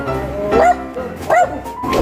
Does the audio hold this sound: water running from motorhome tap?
no